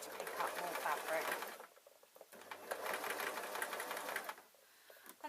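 Sewing machine stitching around the fabric sole of an add-on bootie slipper, running in two steady whirring bursts separated by a short pause, close and fairly loud.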